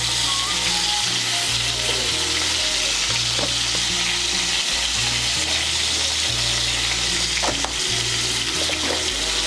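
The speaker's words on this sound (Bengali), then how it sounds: "মিশিয়ে নিয়ে পটলগুলোকেও লাল করে ভেজে নেব" Pieces of pointed gourd, salted and dusted with turmeric, fry steadily in hot oil, giving a dense, continuous sizzle with occasional stirring scrapes and a low hum running underneath throughout.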